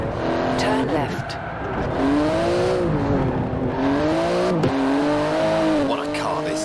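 A 3.8-litre twin-turbo flat-six with 700 horsepower and a carbon-fibre body, driving through Edinburgh in the racing game Forza Horizon 4. Its close, steady engine drone swells and dips as the revs rise and fall between gear shifts.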